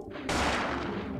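Gunfire in the survival-horror game Parasite Eve 2, aimed at small creatures that explode when shot, comes as one loud sustained burst of shots and blasts filling the clip with no talk.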